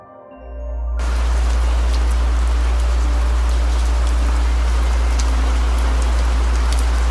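Steady, dense rain falls through the Western Ghats rainforest, a loud continuous hiss of drops on foliage that starts after a brief quieter moment, with a constant low rumble underneath.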